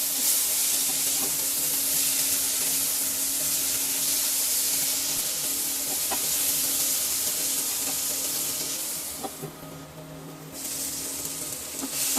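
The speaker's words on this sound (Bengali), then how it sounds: "আমি 5 মিনিটের মতো ভেজে নেব।" Potatoes and yardlong beans fry in a pan with a loud, continuous close sizzle and faint stirring scrapes, briefly dipping quieter near the end before the full hiss returns.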